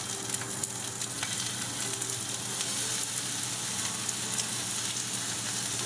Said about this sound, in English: And now I'm going to place the shrimp